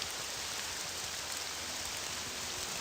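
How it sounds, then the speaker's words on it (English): Steady, loud rain in the Morrowind video game, a dense continuous hiss of falling water that holds evenly throughout with no voices over it. "The rain is quite loud."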